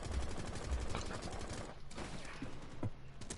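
Gunfire in the tactical shooter game Rainbow Six Siege comes as dense rapid bursts mixed into loud, cluttered game noise throughout, with brief pauses and a few sharper shots near the end.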